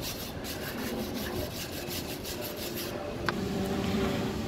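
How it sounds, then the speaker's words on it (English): A wire brush scrubs rust off a car hauler trailer's brake plate, making fast, close, repetitive rasping strokes that shift into denser continuous scraping, with a single sharp tick partway through. "we're gonna clean all the rust as much as we can with the wire brush"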